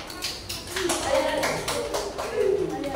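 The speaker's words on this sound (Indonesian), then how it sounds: "Tepuk tangan untuk kelompok 4" A group of children in a classroom claps in a loose, uneven patter for a few seconds while young voices chatter over it.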